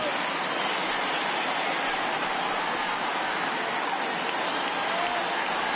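Large baseball stadium crowd of about 25,000 cheering and applauding on their feet, a steady dense roar heard from a distance with no talk over it.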